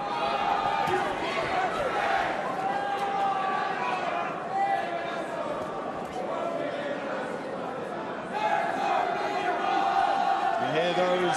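Boxing crowd in a Cardiff arena cheering on a fighter, with Bristolian voices shouting encouragement; a steady dense roar of many voices runs throughout, swelling near the end.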